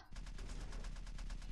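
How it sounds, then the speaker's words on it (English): Rapid automatic gunfire rattles in the video game Jak II, a fast, evenly spaced burst of shots from the game audio, fairly quiet and continuous with no talk. "I hear gunfire."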